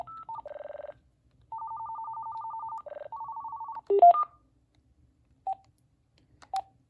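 A late-era 2.4GHz cordless phone handset beeps its keypad key tones: a run of short electronic tones in several pitches, some in rapid bursts, followed by a few isolated blips, clear and close with no voices.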